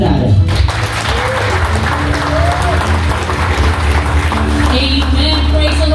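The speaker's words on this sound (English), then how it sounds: "Please join us in giving a warm round of applause" A church congregation at a joint worship and healing service in Alberta, Canada, applauds loudly and continuously, the clapping mixed with voices and some tonal sound over it.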